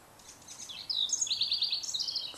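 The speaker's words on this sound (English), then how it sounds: "Such a loud bird." Outdoors, a loud bird gives a run of sharp, repeated chirping calls at close range in short rhythmic bursts over faint background noise, with no talking.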